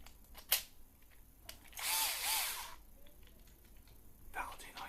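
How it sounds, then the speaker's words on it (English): A revolver-style cordless screwdriver whirs in a single high-pitched burst of about a second, close by, with a few clicks and handling knocks around it while fitting IKEA wardrobes. "This is a revolver cordless screwdriver."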